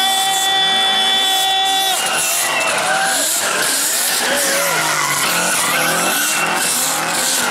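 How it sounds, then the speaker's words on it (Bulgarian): A drift car does a loud burnout, its tires squealing and skidding over a roaring engine that climbs in pitch and then wavers continuously, close and dominant throughout. "А това, уважаеми дами и господа, се казва един истински бърнаут"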